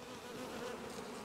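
Dense, steady buzzing of many honeybees close by at the hives, continuous and fairly faint with no voices.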